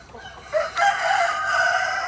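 A rooster crows once on a poultry farm where Blue Orpington chickens are kept, a clear, fairly close call rising after a brief lead-in and holding steady to the end.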